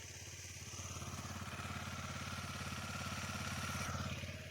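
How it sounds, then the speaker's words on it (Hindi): A motorcycle engine idles after a cold start, a steady, close, rhythmic low putter that swells slightly in loudness over a few seconds, with no talk over it. "बाइक अभी पूरी तरह से कोल्ड स्टार्ट हो चुकी है"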